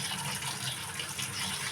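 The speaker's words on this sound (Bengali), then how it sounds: "তাহলে এটা জলে ভিজিয়ে রাখবো এখন।" Water running from a tap or being poured into a container to soak food in a home kitchen, a steady, close gushing splash that fills the short moment alone.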